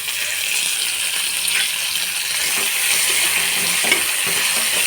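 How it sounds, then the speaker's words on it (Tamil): Tomatoes, onions and vegetables sauté with salt in a pan for a potato and eggplant kootu, giving a steady close sizzle with faint stirring scrapes throughout and no voices. "கொஞ்சம் நல்லா வதக்கலாம் தக்காளி பழம் போட்டுக்கலாம்"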